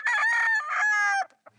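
A rooster crows once, loud and close, a drawn-out strained call that breaks off, followed by a faint cluck.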